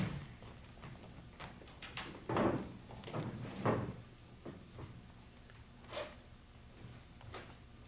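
A series of knocks and wooden thumps as a door is handled and swung open nearby, with scattered smaller clicks and bumps in a quiet room.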